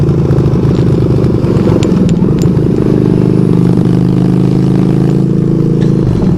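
A motorcycle engine runs loud and close at a steady idle, a continuous low rumble with some mechanical clatter and no talking over it.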